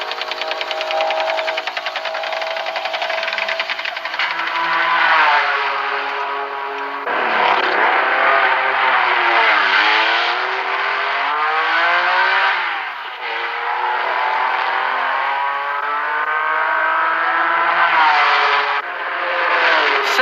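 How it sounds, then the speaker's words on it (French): Race cars roar past at the 1972 24 Hours of Le Mans, with loud, sustained engine noise rising and falling in pitch as the cars pass and brief dips between them, without speech. "la Chevrolet Corvette de Johnson et Heinz, actuellement 34e, ira jusqu'au bout de l'épreuve."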